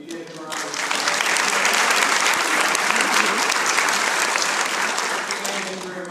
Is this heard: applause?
yes